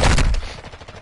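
Video game gunfire bursts loudly and close at the start, then a rattle of fainter shots trails off over about a second, with no voices.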